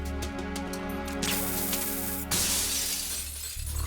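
Glass shatters after being shot in Metal Gear Solid 2, a loud crash of breaking panes with a second burst of falling shards, over a constant game music and ambience bed.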